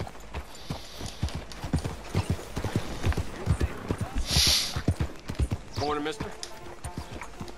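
A horse's hooves clip-clop in a steady walking rhythm in the Red Dead video game, close and distinct, with brief spoken greetings and a short bright chime over the footfalls.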